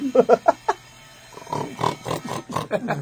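Pigs oinking and grunting in a burst of quick snorts, then a pause and a longer run of irregular grunts, close and fairly loud with no talking.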